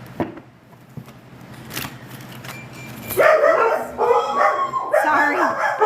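Dogs bark indoors, a few scattered yips and barks at first, then a louder burst of overlapping barking and howling close by.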